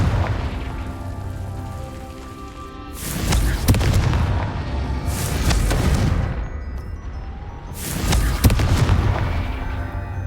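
Confringo explosion spell cast in the Hogwarts Legacy video game, heard as a series of loud booming blasts with rumbling low-end and crackling tails, roughly three big bursts spread across a continuous game soundscape, no talking.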